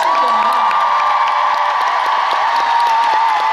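A large concert crowd at an encore applauds and cheers in a dense, steady roar of clapping and whoops that stays loud and continuous, with a sustained tone carrying faintly above the noise.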